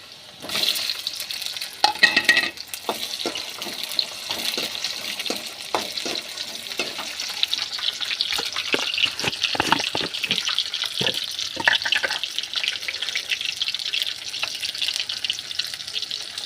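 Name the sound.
tomatoes frying in a pan for garlic chutney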